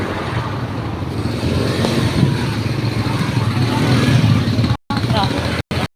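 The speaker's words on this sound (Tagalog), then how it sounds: "Traffic." Steady road traffic rumbles past at close range, a continuous wash of engines and tyre noise with voices talking over it, the sound cutting out briefly near the end.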